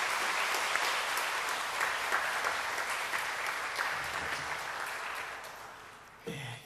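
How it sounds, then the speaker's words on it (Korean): A church congregation applauds to welcome the pastor to speak, a long dense wash of clapping that slowly fades, with a brief bump of other noise at the very end. "뜨겁게 박수로 맞이하겠습니다."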